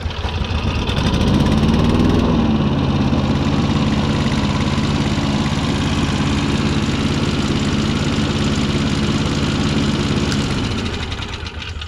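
An old Kawasaki engine with seized bearings runs close by, a loud rough idle with knocking, its pitch settling after a brief rev near the start, then holding steady before easing off at the end.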